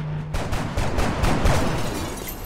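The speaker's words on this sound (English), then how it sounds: "Double reaction fire." Reaction-fire gunshots in XCOM: Enemy Unknown, a loud volley of repeated shots pulsing in quick succession with no voices over it.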